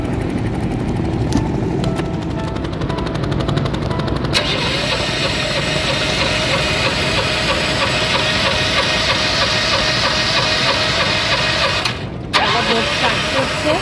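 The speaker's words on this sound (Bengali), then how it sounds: "বোট স্টার্ট করছে, ঘাট থেকে ফেলে দিয়েছে" Boat engine starting at a ghat on the Ganges in Varanasi, a loud continuous rattling engine drone close by with a sharp break near the end, people talking over it.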